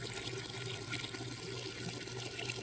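A long, unbroken stream of urine pours steadily like running water, continuous and fairly faint, with no breaks for several seconds.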